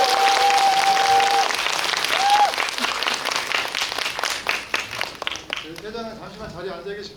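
Cinema audience at a film guest visit breaking into sustained applause, dense clapping that gradually thins out, with a presenter's voice heard over it at the start and end.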